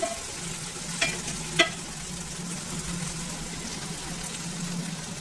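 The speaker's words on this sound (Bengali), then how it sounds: "পেঁয়াজু আছে, আস্তে আস্তে করে লাড়াচাড়া করে দিচ্ছি" Okra with tomato fries gently in a pan as it is slowly stirred, a soft continuous sizzle with a couple of sharp utensil clinks early on, fairly quiet and without speech.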